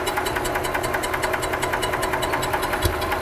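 A 2001 EZGO TXT gas golf cart engine with bad piston rings puttering close by in a fast, uneven pulsing chug, with a sharp pop near the end.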